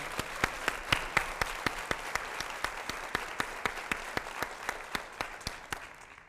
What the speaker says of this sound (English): I just want to give a round of applause for all the hard work that they do.